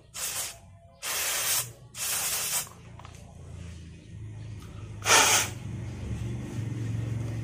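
Several sharp hissing sprays from an aerosol cleaner can into the carburetor jets of a Yamaha F1ZR, three quick bursts in a row, then a pause and one more, close up.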